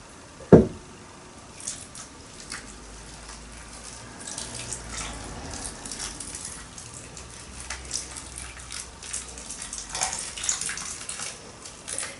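Water is poured from a can onto paperwhite bulbs freshly set in compost in a pot, a soft trickling splash after a sharp knock at the start, running on quietly for several seconds.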